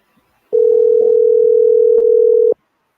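A single continuous telephone tone sounds for about two seconds while a call is placed to a senator, steady and loud, and then cuts off.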